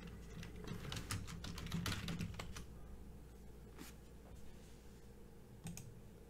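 Quiet typing on a computer keyboard, scattered clusters of light key clicks close to the microphone, busier at first and then sparser.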